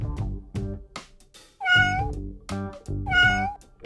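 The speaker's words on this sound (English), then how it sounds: "We may start hearing meow meow from everywhere." A cat meows repeatedly, several clear tonal calls close to the microphone, with short gaps between them and no talking.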